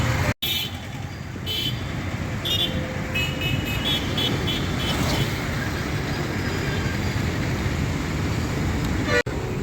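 Busy road traffic near the Sankar Vilas bridge in Guntur: a continuous roar of passing vehicles, with short car horn toots sounding repeatedly throughout.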